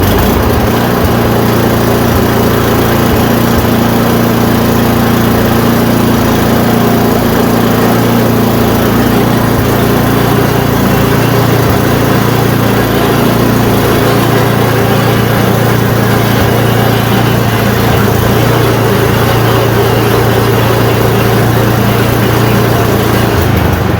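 Yard Machine snow blower engine after a push-button start, a loud, continuous small-engine roar with a steady low rumble that runs unbroken throughout, heard close and without talk.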